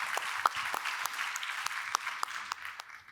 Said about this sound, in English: An applause for him